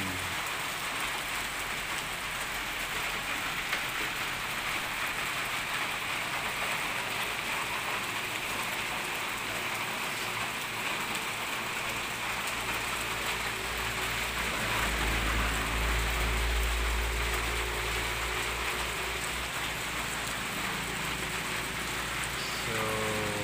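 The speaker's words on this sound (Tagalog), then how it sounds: "medyo maulan na naman" Steady rain pours on a farm, a dense, even hiss of drops hitting surfaces that holds at the same level throughout, with a low rumble swelling briefly near the middle and no voices.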